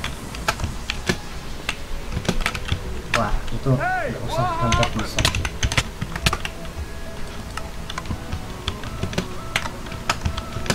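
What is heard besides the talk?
computer keyboard typing while playing Minecraft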